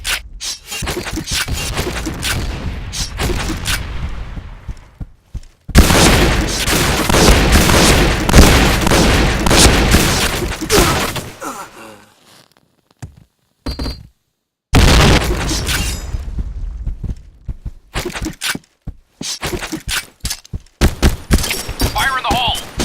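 Grenade blasts and rapid gunfire in the Point Blank shooter game, loud dense bursts of shots and booms cut by abrupt silent gaps, up close and harsh, with a game voice calling out over the action.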